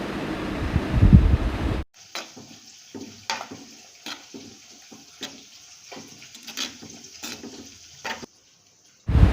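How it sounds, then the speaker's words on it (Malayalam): Squid curry being stirred after spice paste goes in, in a Kerala home kitchen: soft intermittent scraping and bubbling knocks of a spoon in the pot, close and fairly quiet, over a steady fan-like hum. "പേസ്റ്റ് ആഡ് ചെയ്തതിന് ശേഷം അതിനെ നന്നായിട്ടൊന്ന് ഇളക്കുക"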